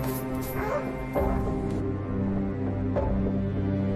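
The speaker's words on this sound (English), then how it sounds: "That night, the dog would not stop barking." A dog barks and whimpers in short yips over a dense, droning background, the barks irregular and fairly close.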